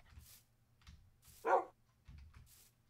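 A dog barking in the Minecraft video game, a single faint bark in the middle of quiet, low background sounds.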